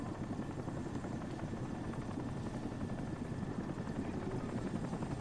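A helicopter in the video game Crysis gives off a continuous, even rotor drone that stays steady and fairly close throughout, with no talk over it.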